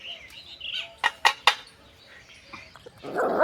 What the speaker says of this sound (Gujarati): પાછળ તમને બતાવું તો અહીંયા નાના નાના કૂતરાના બચ્ચા છે